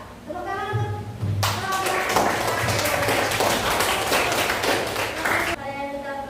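Classroom applause breaks out as a burst of clapping that lasts about four seconds, set between stretches of a teacher's speaking voice before and after it.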